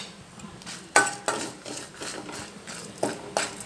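A metal spoon stirs and sautés tamarind in oil in a pan for mango chutney, giving soft scraping strokes with a few light clinks against the pan, quiet and close.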